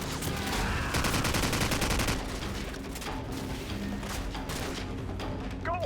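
Rapid bursts of automatic gunfire in Call of Duty 4, dense and close at first, then thinning into scattered distant shots and faint battle noise.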